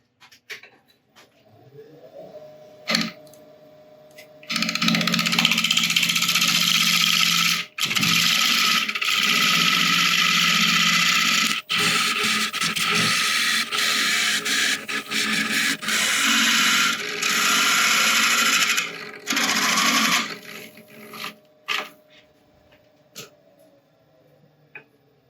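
A black locust burl bowl spins on a wood lathe as a cutting tool shaves it thinner, a loud, steady rasping scrape that runs for long stretches and stops abruptly between passes.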